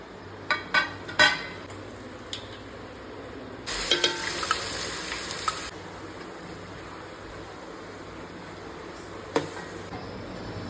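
A few light metal clinks of a utensil, then a sharp burst of hot oil sizzling as dal tempering is added, about two seconds before fading back to quiet.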